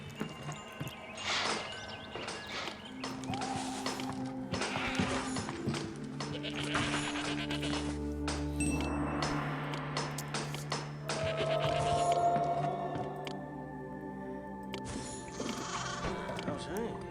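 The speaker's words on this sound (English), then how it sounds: "Release the sheep." Sheep bleat several times amid busy game sound effects and clatter in the city-building game Zeus: Master of Olympus, the calls rising clearly over the mix.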